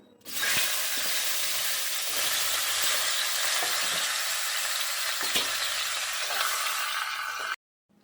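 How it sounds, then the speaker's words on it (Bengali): Steady, loud sizzling of a fish head frying in hot oil, crackling continuously for several seconds before stopping abruptly. "এবার আমি মাছের মাথাটা ভাজা করে নিচ্ছি"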